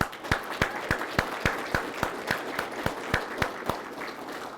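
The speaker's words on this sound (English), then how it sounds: "Let's give them a round of applause." At a military graduation ceremony, the audience gives a round of applause for recruiters, with steady, evenly spaced claps standing out over a diffuse crowd applause.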